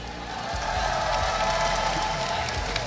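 A crowd at an Honor of Kings esports semi-final cheers and applauds steadily throughout, a broad roar of many voices and clapping at a distance.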